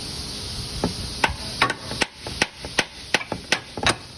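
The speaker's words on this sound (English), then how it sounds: "Bust out the old trusty hammer again." A series of sharp metallic hammer strikes on a Toyota oil filter housing, about a dozen irregularly spaced blows, close and loud, with faint background hum between them.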